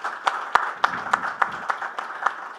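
Sparse hand claps from a conference audience for a panel speaker, about ten distinct sharp claps at a steady pace, fairly close, with no talking.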